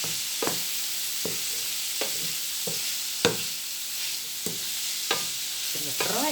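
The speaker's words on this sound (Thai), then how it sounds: "ผัดขนุนกระป๋องจ้ะ" Canned jackfruit and pork belly stir-fried in a pan, with a steady frying hiss and spatula scrapes and clacks recurring roughly every second, close and moderately loud with no talking.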